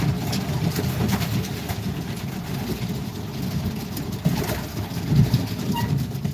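Racing pigeons, including a hen that finished a 400-mile race, coo softly and steadily while being handled in a loft, a low murmuring with a low engine idling in the background.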